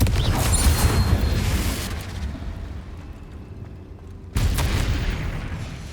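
A Confringo fire blast spell goes off in the Hogwarts Legacy video game. A loud rumbling explosion decays over about two seconds into a quieter ambience, then a second forceful burst abruptly kicks in and roars on.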